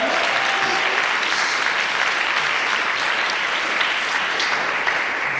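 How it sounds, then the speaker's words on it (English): Steady, dense applause from an audience at a tech business event, filling the moment loudly and evenly from start to finish with no talking over it. "Can we give a round of applause for that?"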